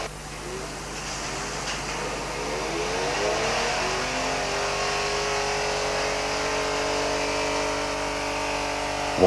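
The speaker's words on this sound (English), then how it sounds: "all of the 6-cylinder engines are tested at full power in special cells" A six-cylinder engine for the Alfa Romeo 164 revs hard at full power in a test cell, its tone climbing in pitch and settling into a loud, sustained mechanical whine, with no talk over it.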